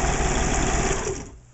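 A Singer Futura 900 sewing and embroidery machine runs its motor at speed, stitching with a loud, steady, fast mechanical whir that fades off toward the end.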